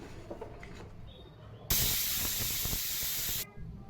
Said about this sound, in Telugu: త్రీ విజిల్స్ అయితే వచ్చాయండి